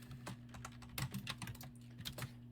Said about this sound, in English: We're rolling some dice.